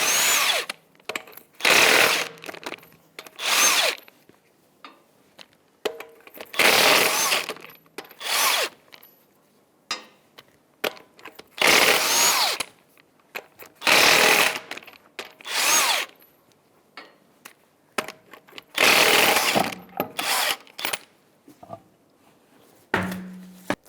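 An impact tool spins wheel nuts off the left front wheel of a 2017-2023 GMC Acadia with a 22mm socket, firing in repeated loud, close bursts separated by short pauses.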